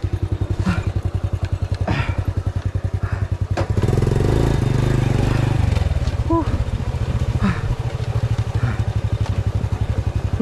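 Honda 100 motorcycle engine on a dirt trail in Bulacan, a loud close rapid putter that swells into a louder rev midway, with bumps and a person talking over it.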